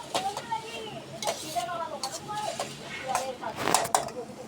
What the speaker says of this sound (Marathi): जरा ढवळायचं. चांगलं असं परतून घ्यायचं.